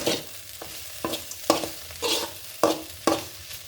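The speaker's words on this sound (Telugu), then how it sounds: "ఇంత వేగాలన్నమాట బెండకాయ" Okra pieces fry in a pan for a home-style curry, with soft sizzling broken by sharp scraping clatters as a spoon stirs them every half second or so, close and alone.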